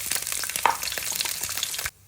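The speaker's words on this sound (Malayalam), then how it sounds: "ഒരു നുള്ളു കടുക് പൊട്ടി വരുമ്പോൾ" Mustard seeds crackling and popping in hot oil for a Malayalam-style winged bean thoran, a dense close sizzle with scattered sharp pops that stops abruptly near the end.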